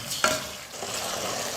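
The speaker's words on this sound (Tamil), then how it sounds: "எல்லாம் நல்லா கலந்துட்டு ஒரு 5 நிமிஷம் எண்ணெயிலே வந்து மட்டன் நல்லா வேகணும்." Mutton frying in oil crackles steadily up close while a spoon stirs it through the pan, with one sharp clink near the start.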